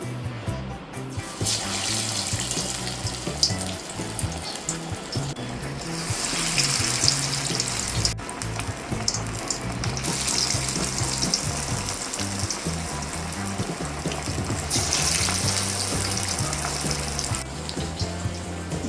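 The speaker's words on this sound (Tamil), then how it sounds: "கொஞ்சம் கொஞ்சமாக எடுத்து பருப்பு வடை மாதிரி தட்டி போட்டுக்கலாங்க எண்ணெய் நல்லா காஞ்சிருச்சு" Banana flower vadai patties sizzle steadily in hot oil, a dense, continuous frying hiss that holds level throughout with no one talking.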